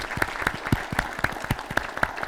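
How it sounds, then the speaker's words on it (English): An audience claps for caregivers standing in a room at a multiple sclerosis talk, with steady moderate applause and sharp individual claps running through the whole stretch. "Let's give them all a round of applause for doing what they're doing."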